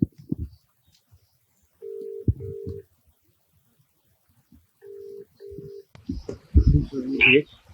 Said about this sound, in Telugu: సో ఒకసారి రంగనాథ్ గారికి కాల్ చేద్దాం, మరి ఆయన ఫోన్ లిఫ్ట్ చేస్తారో లేదో.